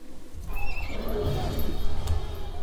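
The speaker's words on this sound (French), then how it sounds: "Un destrier n'avait rien d'un cheval ordinaire" A warhorse in Age of Empires IV lets out a loud, close whinny, with hoof clops and low game ambience beneath it, lasting a couple of seconds.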